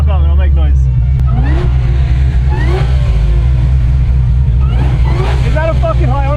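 A car engine rumbles low and steady while rising whoops and revs sweep over it, with people talking and music playing throughout.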